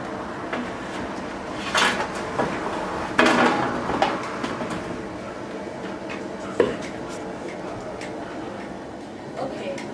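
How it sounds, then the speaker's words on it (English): Potatoes, corn and sausage are dropped into a crawfish boil strainer, giving scattered thuds and clatters under ongoing talk. "now it's time to add the potatoes, corn, and sausage to the strainer."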